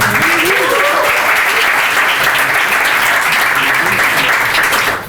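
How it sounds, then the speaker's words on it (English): Loud, dense audience applause for event sponsors at a growth-hacker music and events keynote night, sustained steadily for about five seconds before tapering at the end, with faint voices under the clapping. "please give them a big round of applause as well"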